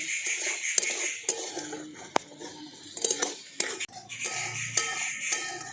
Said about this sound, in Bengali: ছানাটার সাথে চিনিটা দিয়ে ভালো করে মিশিয়ে নিয়েছি